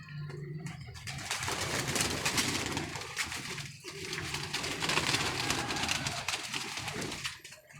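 Pigeons coo steadily in a pigeon club loft, with soft overlapping calls and rustling throughout and no talk.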